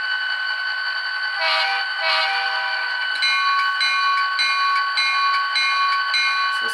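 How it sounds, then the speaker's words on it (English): The sound decoder of an Atlas HO scale GP40-2CU model locomotive plays a throttle notch, a thin, tinny electronic engine drone with a pulsing rhythm that steps up in intensity partway through, close and without talk. "Let's listen to the throttle sound."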